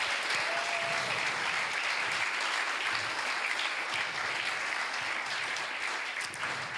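A church congregation applauds together in a sustained, dense clatter of many hands that holds steady for several seconds, with no voices rising above it.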